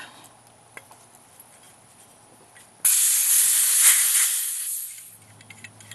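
After a few quiet seconds, a loud steady hiss of escaping air bursts out of an Air Force Condor air rifle tank during a purge, holds for about two seconds, then tapers off.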